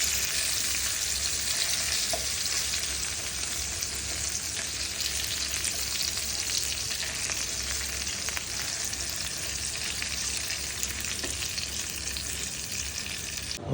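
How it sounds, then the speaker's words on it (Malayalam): Fish frying in a pan of oil in a village kitchen, a steady dense sizzle running unbroken from start to finish at close range with no talking. "നല്ല മീൻ പൊരിച്ച കേട്ടോ."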